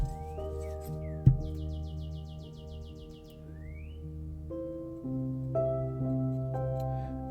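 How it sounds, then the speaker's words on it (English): A loud bird just outside a window gives a repeated series of bright chirps, with a long quick-pulsed trill and a couple of rising whistles, set over a steady bed of background music. "sorry for this loud ass bird"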